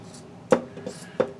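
Dark brown wool being chopped up for fly-tying dubbing, with two sharp close cuts about two-thirds of a second apart and a softer snip between them.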